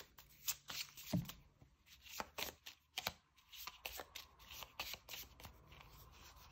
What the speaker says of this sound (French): Alors, on va tirer une carte accessoire.